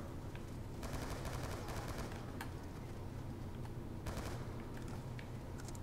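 Gunfire in the single-player campaign of the video game Black Ops 2 plays as dense volleys of rapid shots over a constant roaring backdrop, with louder bursts near the start and again around the fourth second.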